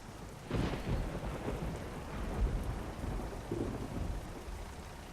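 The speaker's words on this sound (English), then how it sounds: "Oh, great. It's raining." Rain and rolling thunder in the American Truck Simulator video game: a steady rain wash with low thunder rumbles swelling and fading across the scene, no voices present.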